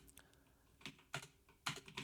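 Code is typed on a computer keyboard in short, quiet bursts of keystrokes. Scattered single taps are followed by quick clusters of clicks, close but soft, with no talk.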